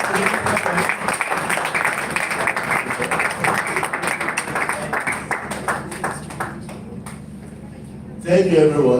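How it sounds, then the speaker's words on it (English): Audience applause at a business summit in Abuja, a dense patter of clapping from a sizeable crowd that fades over several seconds before a voice comes in near the end. "Please let's clap for him."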